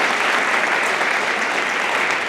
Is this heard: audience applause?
yes